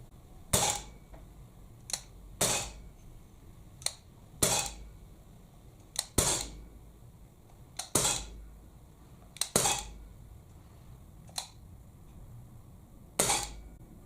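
Gamo C15 CO2 blowback air pistol firing, about a dozen sharp cracking shots spaced irregularly every second or two, each a crisp snap with a brief metallic clack of the slide, fairly close with quiet background between.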